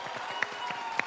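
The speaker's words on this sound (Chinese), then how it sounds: "好了，掌声鼓励啊！" A studio audience on a talk-show set gives brief, light applause, a few scattered claps close together over a soft background hum.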